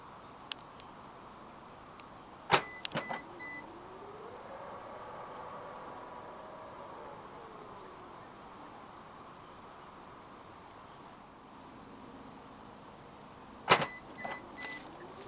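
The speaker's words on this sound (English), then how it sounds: "There are 3 ways to operate the powered rear hatch in this 2025 VT9." On a 2025 Jetour VT9, the powered rear hatch motor whirs smoothly for several seconds, rising and then settling, framed by sharp latch clicks and thunks at the start and again near the end, fairly quiet with no talking.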